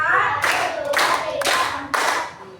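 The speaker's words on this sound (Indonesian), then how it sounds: "Tepuk tangan untuk kelompok 3." A class of students claps for a group in several loud, close bursts of hand clapping with short pauses between them, like a patterned classroom cheer.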